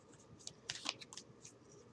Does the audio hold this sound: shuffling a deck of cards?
yes